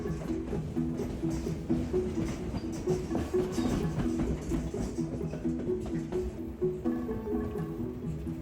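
Train riding along an Alaskan railway, heard from aboard: a steady rumble of wheels on track with rhythmic clickety-clack and soft metallic squeaks, continuous and moderately loud, with faint background voices.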